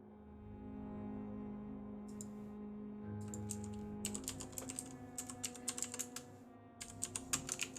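Computer keyboard typing during a Vampyr game stream, starting as sparse clicks and turning into quick, uneven bursts of keystrokes, fairly close, over a low steady background hum with no talking.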